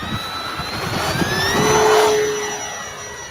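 A radio-controlled jet airplane takes off outdoors in California, its turbine whining loudly with rising and sweeping pitch as it accelerates and passes, swelling to a peak and easing slightly, with no talk.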